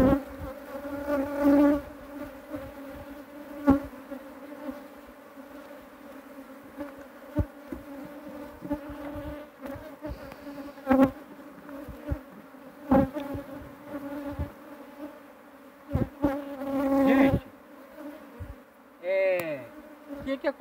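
Large honeybee swarm in a hive buzzing steadily and close up, a dense continuous hum with occasional knocks and handling sounds over it.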